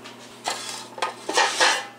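Metal bread pans clank and rattle as they are picked up and set down, a few sharp knocks and scrapes close by.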